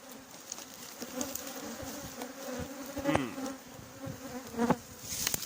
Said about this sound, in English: The bees are getting quite agitated, guys.